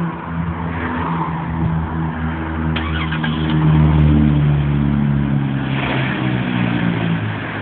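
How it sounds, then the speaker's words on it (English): A 2005 Dodge Caravan engine runs loud and close, its steady drone rising into a heavier rev partway through and holding at higher pitch before easing. "Rev it a few times, or get the engine going."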